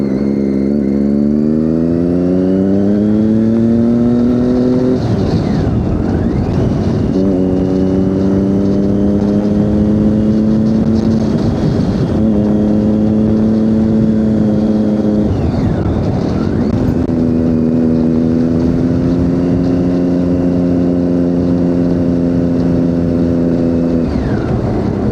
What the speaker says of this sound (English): Bike popping away as soon as you come off the throttle.